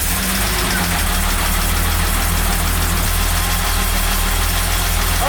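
An old repaired engine runs steadily and loudly right after starting, its low, even throb holding without pause for several seconds; no one speaks.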